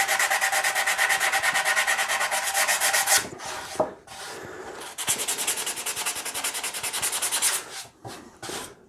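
Hand sanding on the wooden top of a scratch-built guitar makes steady, close, rhythmic rasping strokes in two long runs, with a short pause and a few knocks between them.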